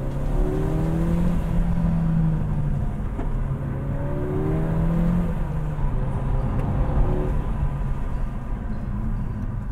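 A Peugeot RCZ R front-wheel-drive sports car engine revs and pulls steadily throughout, with rising and falling tones over a constant throaty rumble, close and fairly loud.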